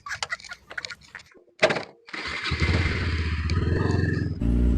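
Motorcycle started and ridden away: scattered clatter and a thunk, then the engine catches and settles into a loud, steady close-up idle and pull-away rumble that grows stronger to the end.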